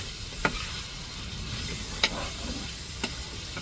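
Squid pieces frying in hot oil, added a few at a time, with a steady close sizzle and three sharp clicks or taps spaced through it.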